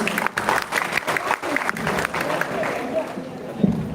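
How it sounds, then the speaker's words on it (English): An audience gives a round of applause at a gathering shortly before prayer time, with steady clapping running throughout and a voice talking over it. "So please let's give him a round of applause."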